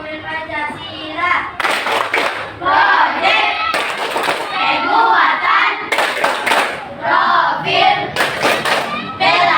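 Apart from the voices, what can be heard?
rhythmic class clapping chant, tepuk profil Pancasila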